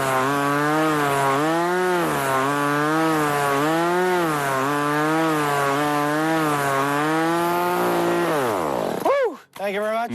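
A chainsaw runs loud and close during a chainsaw-juggling stage act, its engine drone wavering steadily in pitch for about eight seconds before it winds down and cuts off abruptly.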